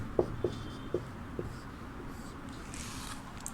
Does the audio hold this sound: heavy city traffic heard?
no